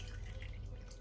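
Lukewarm water poured into a bowl of semolina, a short, close, steady trickle with faint dripping, quiet and alone.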